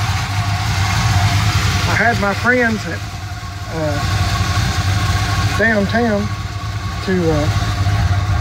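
A 1979 Chevy Silverado C10 pickup engine idles after a cold start, a steady low rumble running continuously beneath a man's close, conversational speech.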